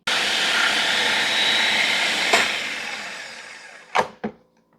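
A blender runs on high, mixing a basil preservation mixture in a steady loud whir that fades down near the end, followed by a couple of sharp clunks.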